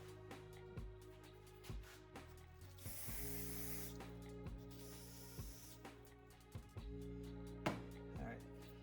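Short bursts of aerosol cleaner spray hiss into a generator's carburetor bowl, two longer sprays among scattered clicks and light tapping, close up.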